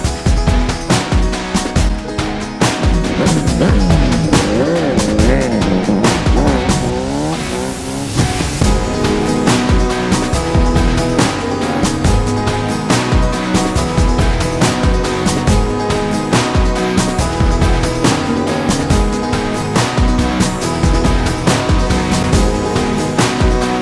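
RMZ 1000 dirt bike tyres smoking and squealing on the ground under a loud, constantly revving engine, with a sweeping tyre squeal early on, all close and dense throughout.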